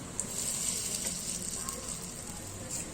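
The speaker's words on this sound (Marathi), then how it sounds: "तेल तापलेलं आहे, आप्पे आपण टाकून, थोडं कमीच टाकायचं" Appe batter frying in hot oil in an appe pan, a steady, close crackling sizzle with fine bubbling hiss that continues evenly throughout, no talking.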